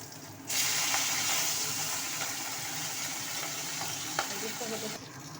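Bata fish fry in oil in a pan, giving a loud, even sizzle that starts abruptly and holds steady with a few small pops until it drops away near the end.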